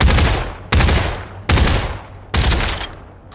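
Four heavy gunshots ring out in the VR shooter Population: ONE, fired at an even, deliberate pace. Each loud crack trails off into a short decay before the next one, and no one speaks between them.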